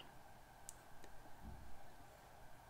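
A couple of faint, close computer mouse clicks, two brief sharp ticks over a low steady hum, no talking.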